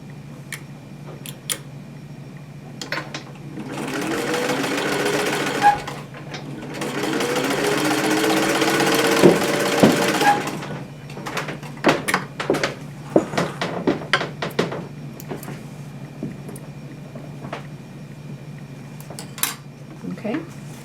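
A sewing machine stitches quilt block pieces for a 54-40 or Fight block, whirring steadily in two sustained runs. Lighter clicks and taps from handling the fabric follow.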